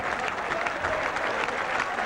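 A cricket crowd applauds England's Test victory over Australia in 1977, a dense, steady wash of clapping heard from a distance with faint crowd voices mixed in.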